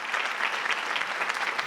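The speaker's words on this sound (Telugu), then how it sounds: "అందరూ చప్పట్లతో అభినందనలు తెలియజెప్పాలి" A studio audience applauds after a song performance on a televised music show, a steady dense clapping throughout.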